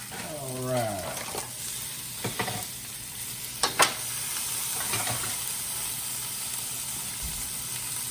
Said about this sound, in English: The onions are cooking.